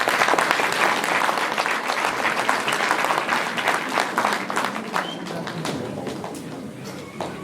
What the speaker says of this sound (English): Come on, clap.